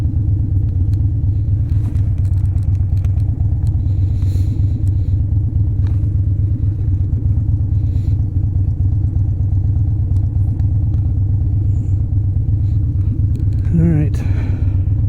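A Harley-Davidson FXDC motorcycle rumbles steadily on a dark, cold morning commute, its deep engine drone loud and continuous with wind noise throughout.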